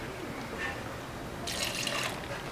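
Fresh milk pours into a blender for an avocado shake, a faint liquid trickle that swells into a brighter, fuller pouring splash partway through, set against low background hiss.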